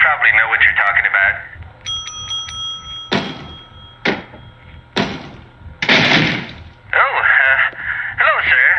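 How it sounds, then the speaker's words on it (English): A service bell is struck a few times in the Killer Frequency video game, with short ringing tones and thuds among spoken lines from game characters. "Ring that service bell."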